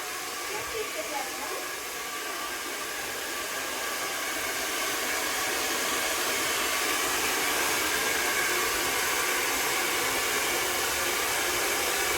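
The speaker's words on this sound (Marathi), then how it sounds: "चली माऊ हवा मारते हवा केस काढते गरम वाटते ना छान वाटते ना" A hair dryer blows air during a haircut at home, a loud, steady rushing hiss that runs unbroken from start to finish.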